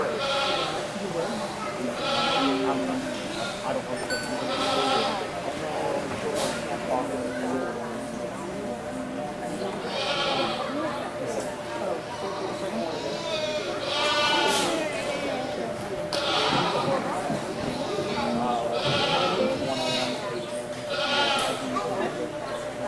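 Meat goats bleat repeatedly at a county fair show, scattered calls near and far over a steady crowd and barn din, with a voice talking over an announcement system throughout.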